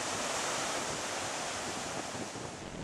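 Ocean waves breaking at a beach at Washington Slagbaai National Park, a steady broad rushing wash of surf mixed with wind buffeting the microphone, continuous and fairly soft with no voices.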